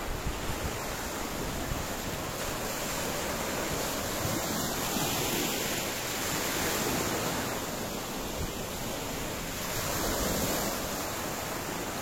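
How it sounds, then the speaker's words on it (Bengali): Waves roll in steadily at Kalapathar beach near Havelock, a continuous wash of surf with gusty wind noise on the microphone. No voices are heard. "এটা হচ্ছে প্রপার কালাপাত্থর বিচ, যেটা তোমাদের হ্যাভলক বিচ থেকে নিয়ার 4 to 5 কিলোমিটারের ডিস্টেন্সের মধ্যে পড়ে"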